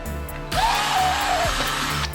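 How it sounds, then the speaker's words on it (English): A power drill whines steadily for over a second and a half, drilling out a bolt hole through a nut on a vintage dirt bike, with mechanical grinding and small clicks near the start and end. "Just drill that out with a size slightly smaller than the bolt hole."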